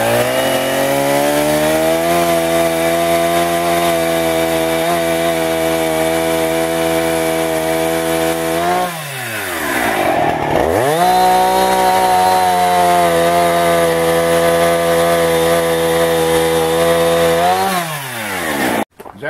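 A chainsaw roughs out a baseball bat blank from wood, running loud and steady near the mic with a brief drop and revving dip midway before resuming its continuous cut.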